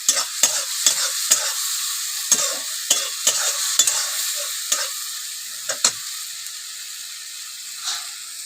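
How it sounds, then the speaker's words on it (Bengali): Spice paste with green chillies frying in a pan, giving a steady sizzle broken by repeated scraping strokes of a spoon stirring it, close and alone with no talking. "মশলাটা ভালো কষে নেব এর মধ্যে তিনখানা কাঁচা লঙ্কা দিয়ে দেবো"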